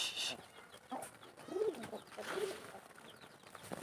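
Native pigeons at a small pigeon farm give soft, intermittent cooing calls with a few brief wing or movement sounds, close but fairly quiet against a hushed background.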